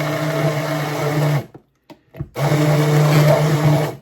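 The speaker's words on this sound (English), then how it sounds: "I just have an immersion blender." A loud, steady motorized whir of an immersion blender runs, cuts out briefly for a second of near silence, then starts up again and keeps running.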